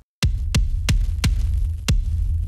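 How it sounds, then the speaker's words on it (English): Five heavy, booming kick drum hits at an uneven pace, each short and punchy with deep low-end over a constant low hum, no voices. "So there's your kick drum."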